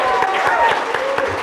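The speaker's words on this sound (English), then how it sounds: "So if we could give a round of applause." Audience applause at a live SCP show premiere at DragonCon, a dense patter of many hands clapping at steady volume with crowd noise mixed in.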